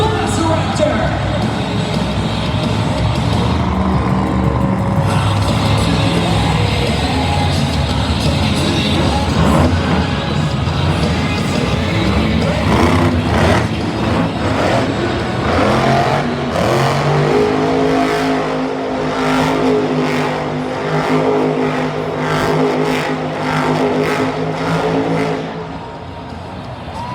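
The Velociraptor monster truck's big engine roars and revs inside a stadium at a Monster Jam event, a loud sustained rumble with rising throttle surges and a crowd behind it, while an announcer talks throughout.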